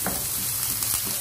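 Garlic cloves frying in a pan alongside onion, a quick close sizzle with small crackling bursts, lasting only a moment with no one talking.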